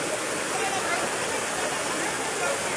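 Floodwater rushing in Davao De Oro where a Hilux is being swept away, a steady, loud broadband roar of churning water throughout with a voice faintly mixed in.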